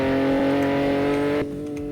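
A tuned Toyota Supra MK5 engine on a race track holds a steady, loud drone with strong harmonics that cuts off abruptly partway through, leaving a quieter, lower hum.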